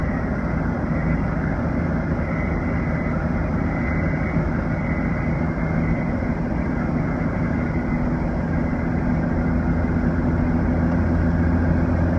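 Cummins 12-valve turbo diesel truck driving uphill, heard from inside the cab as a loud, constant low engine drone with road rumble and no talking.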